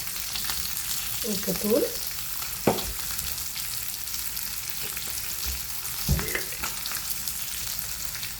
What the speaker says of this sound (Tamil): இப்போ முட்டை பொரியட்டுக்கும்.